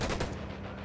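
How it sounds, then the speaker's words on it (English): Gunfire from the Tom Clancy's Ghost Recon video game, a dense burst of rapid shots filling a brief moment, loud and close with no pauses. "Stop shooting at me."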